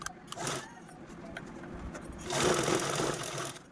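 Sewing machine top-stitching along fabric beside a zipper, a short burst of fast mechanical whirring that swells louder in the second half, close by and without talk.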